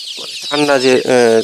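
Free-range chickens clucking close by, a brief burst of two loud, harmonic clucks after a soft lead-in.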